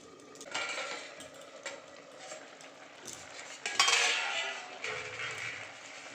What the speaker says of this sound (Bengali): এবার আমি আবার ঢাকনাটা খুলে দেবো এবং নাড়িয়ে নেব।